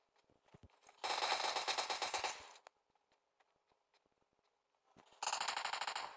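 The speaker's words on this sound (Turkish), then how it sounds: "M249'a almış sarıyor" An M249 machine gun fires in PUBG Mobile: two sustained bursts of rapid automatic gunfire, the first about a second and a half long and the second starting near the end, separated by quiet with faint scattered clicks.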